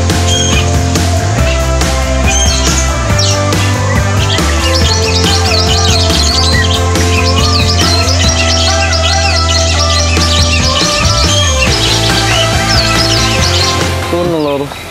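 Weaver birds and other birds calling together in a crowded aviary, a loud, continuous chorus of squawks, chirps and whistles with no pause.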